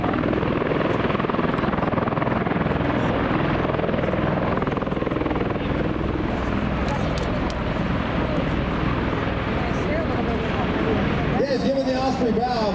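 An MV-22 Osprey tiltrotor flies at the Beale Space and Air Expo air show, its loud, steady throbbing rotor roar filling the whole stretch, with an announcer talking over it.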